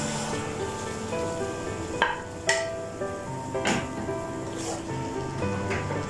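Tomatoes go into a pan of frying okra, setting off a steady crackling sizzle with a few sharp spits and pops as they hit the hot oil, while faint background sounds and occasional talk carry on.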